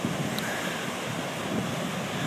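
Waves from the Indian Ocean wash continuously onto a beach at Perth on a windy day, a steady broad rushing roar mixed with wind buffeting the microphone.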